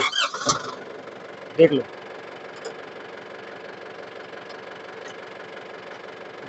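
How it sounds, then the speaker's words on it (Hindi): Yanmar YM 348 A tractor diesel engine starts with a short burst, then settles into a steady low idle that runs on to the end, with brief talk near the start. "ये वन ट्रैक्टर में अभी ट्रैक्टर स्टार्ट करके दिखाते हैं"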